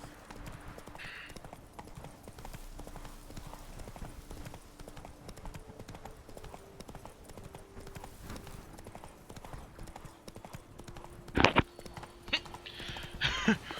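Horse hooves clip-clop steadily in The Witcher 3 as the mount walks along, a rhythmic series of light knocks under faint game sounds, with brief louder bursts near the end.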